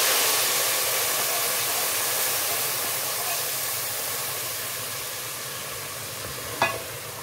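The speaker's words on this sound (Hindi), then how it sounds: "ये हमारी निहारी और ये इसमें गया इसका ये तड़का।" Hot tadka poured into a pot of nalli nihari, giving a loud broad hissing sizzle that fades slowly over several seconds, with one brief sharp crackle near the end and no voices.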